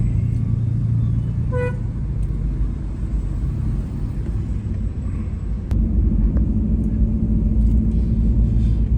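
Congested city street traffic in Sungguminasa, Gowa: a dense, continuous rumble of idling and creeping engines, with short horn toots and passing vehicles, steady and loud throughout.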